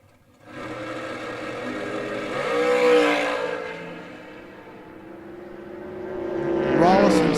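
A drag racing dragster and a Camaro launch down the strip, their engines rising into a loud roar that swells, eases off, then surges again. A track announcer talks over the engine noise.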